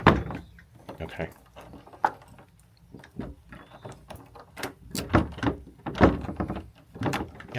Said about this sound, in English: Having trouble opening the door.